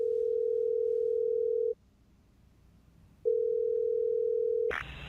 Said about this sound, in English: Jacob dials 911, seemingly at his wit's end